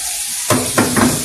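Egg noodles and pork char siu hit a hot pan with a sudden loud sizzle as char siu sauce is added, followed by a couple of hissing surges from stirring, with no talk.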